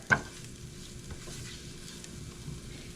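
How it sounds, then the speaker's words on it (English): Chicken pot pie filling sautéing in a pan, a soft, steady sizzle and stir close by, opening with a brief clink of a utensil against the pan. "I'm just sauteing, trying to wake up those flavors that are in there"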